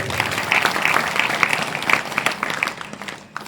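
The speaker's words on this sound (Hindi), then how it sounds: "एक बार उनकी माता जी के लिए जोरदार ताली बजाई" Loud, sustained applause from an audience at a spiritual discourse, honouring a guest's mother, a dense wash of clapping hands that holds steady for several seconds before thinning out at the end.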